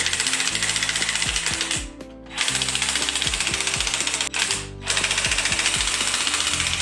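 Repeated ratcheting clicks from a flat 9/16 wrench snugging down engine mounting bolts during reinstallation, in steady rapid bursts with two short pauses, close and fairly loud with no talking.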